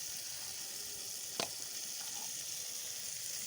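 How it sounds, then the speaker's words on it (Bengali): Koi fish frying in a pan gives a steady, dense sizzle throughout, with one brief sharp crackle or spatter partway through and no voices. "মাছটা ভাজে ঝোল করে নেব, কই মাছ।"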